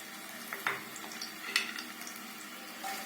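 Garlic, ginger and chili sizzle and fry in a hot pan while being stirred, a steady crackling hiss with a few louder spatters and utensil scrapes, close and alone.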